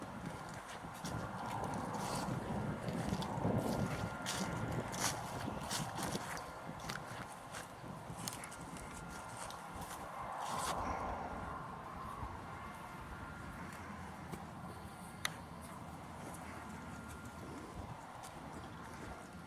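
Horse hooves clip-clop steadily at a walk, a rhythmic clatter of moderate loudness under faint ambient noise, with an occasional sharper knock.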